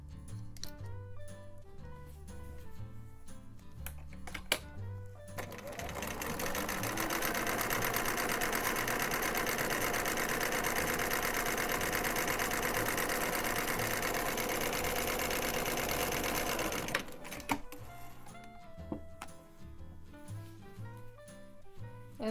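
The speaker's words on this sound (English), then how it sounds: "And now let's try our triple zigzag, or our triple straight stitch." A sewing machine stitches knit fabric with a triple straight stitch, running in a steady, dense mechanical whir for about twelve seconds and then stopping, with quieter handling clatter before and after.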